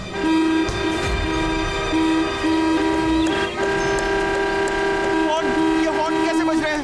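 Horns honking in long sustained blasts, loud and repeated with short breaks, layered over a busy background.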